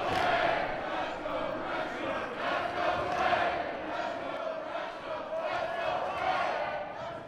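Crowd at a live pro wrestling match in Chicago, a steady roar of voices and chanting that swells in waves throughout, loud and close, with no clear talk on top.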